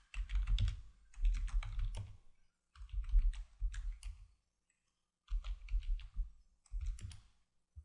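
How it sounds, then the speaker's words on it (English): Typing on a computer keyboard, heard up close as bursts of rapid clicking keystrokes separated by short pauses, with no voices. "If we were to come in here and type in this information,"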